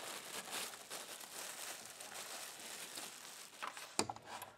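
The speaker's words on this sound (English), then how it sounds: "So let's go ahead and pull this plastic off." Plastic wrap crinkles and rustles as it is pulled off a retro-styled 8-inch table fan, a close, quiet stream of crackling that ends with a sharp snap of the wrap.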